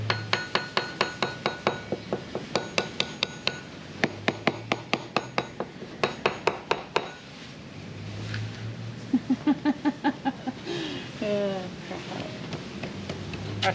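A 19mm ring spanner taps along a wooden boat hull to find rot, giving quick rows of sharp metallic clinks in bursts for about seven seconds, then duller knocks under faint background noise.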